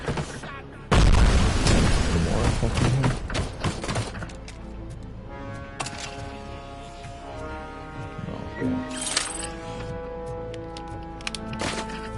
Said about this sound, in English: Somebody tossed a grenade.